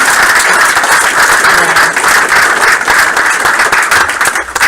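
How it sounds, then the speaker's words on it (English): A crowd at a student game studio pitch event breaks into loud, close applause, thick continuous clapping that stays strong before dipping slightly at the very end. "just give yourselves a round of applause"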